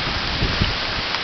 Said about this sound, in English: It is going crazy here. You can hear the rain.